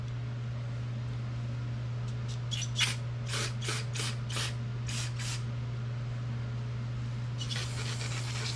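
Carburetor cleaner is sprayed into the jet of a 1985 Honda ATC 200S carburetor in a series of short, sharp hissing bursts, ending with a longer spray, close up over a steady background hum.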